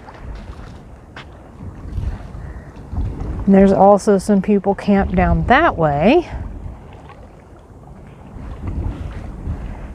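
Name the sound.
wind blowing on a beach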